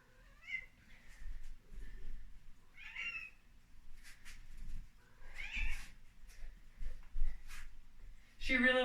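A house cat meows several times indoors during a home workout, short, fairly faint cries scattered among quiet stretches, with a person speaking at moments.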